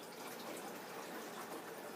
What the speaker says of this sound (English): now what we're going to do is, being that this guy held a lot, we're going to pour his extra in here